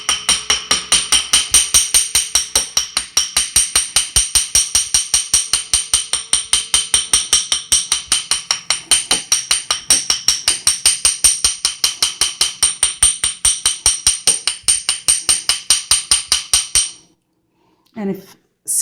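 A texturing hammer taps a metal ring in a fast, even run of sharp metallic clicks, dozens of close strikes for about seventeen seconds before stopping.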